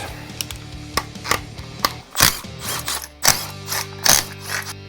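Ratchet wrench clicking rapidly in bursts while loosening timing cover bolts on a 302 small-block Ford engine during a teardown, with sharp metallic knocks between runs of close, loud pawl clicks.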